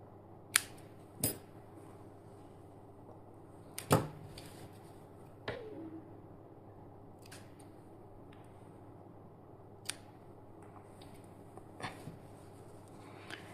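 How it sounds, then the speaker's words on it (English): Scissors snipping crochet yarn while making a crocheted marigold flower, heard as a handful of sharp, isolated clicks spread through an otherwise quiet stretch with no talking. "Now we will cut the yarn here."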